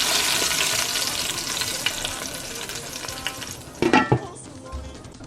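Food frying in hot oil in a pan for a king crab and snail vegetable soup sizzles steadily, then a louder burst of spitting and clattering stirs comes near the end, with no one talking.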